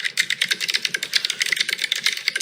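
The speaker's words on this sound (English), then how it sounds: "it's a mechanical keyboard" Rapid, steady clatter of keys on a mechanical keyboard, many close crisp clicks packed together with no voices.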